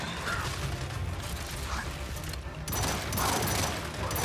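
Heavy automatic gunfire from a high-recoil weapon in the shooter Gears 5, a continuous dense rattle of shots with a louder burst near the end, close and sustained.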